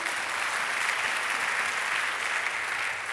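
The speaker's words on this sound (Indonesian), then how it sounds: "Tepuk tangan buat Tuhan." Steady, dense applause from a church congregation fills the space, a continuous even wash of many hands clapping at a fairly loud level without any voices on top.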